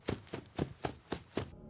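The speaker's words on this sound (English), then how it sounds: "And moving to the left hall sounds like this." Six soft, evenly spaced thuds like hurried footsteps, quiet and slightly distant, then a sudden cutoff into near silence.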